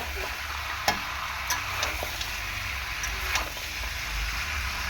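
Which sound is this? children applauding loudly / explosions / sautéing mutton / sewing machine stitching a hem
sautéing mutton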